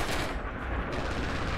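An artillery barrage in the World War II shooter Red Orchestra 2. A dense, steady roar of blasts and rumbling explosions goes on without a break through the short stretch.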